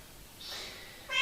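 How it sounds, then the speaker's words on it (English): A house cat meows once near the end, a short, fairly close call rising out of a quiet room after a faint earlier murmur. "that's my cat."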